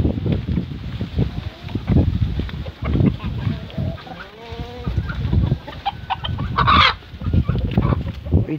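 A small bantam hen clucks repeatedly at close range, with soft rustling in hay and a sharper squawk near the end.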